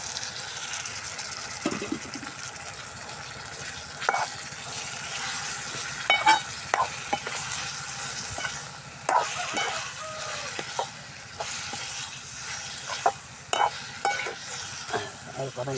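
Chicken roll filling sautéing in a pan, a soft steady sizzle with intermittent stirring clicks and scrapes of a spoon against the pan, fairly quiet and close.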